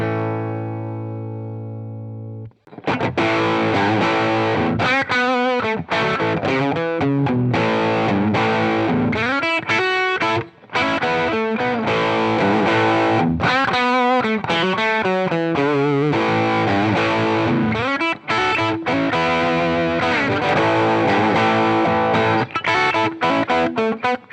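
Guitar driven through a Boss OS-2 overdrive pedal, set against a Boss SD1 and a Keeley-modified Tubescreamer, with a sustained clean-ish chord first, then a loud overdriven riff of chords and single-note runs with brief pauses.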